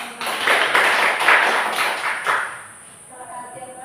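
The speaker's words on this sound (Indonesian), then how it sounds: "Tepuk tangan untuk kelompok 5." A classroom breaks into a short burst of applause for a student group, a few seconds of brisk clapping that fades out, with voices talking faintly afterward.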